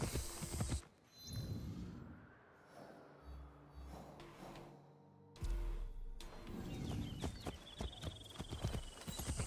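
A horse's hooves clip-clop in the Assassin's Creed Shadows video game, with bursts of close, crisp hoofbeats at the start and again in the second half, separated by a quieter stretch of ambient game sound.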